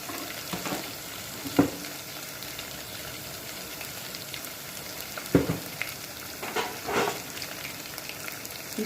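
Ginger garlic paste sizzles and fries steadily in a pan for a tiffin vegetable dish, with a few sharper pops and stirring scrapes breaking through the continuous close hiss.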